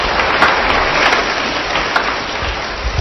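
Church congregation applauding after a sermon line, a dense, loud, steady wash of clapping that continues unbroken for about three seconds with no talk.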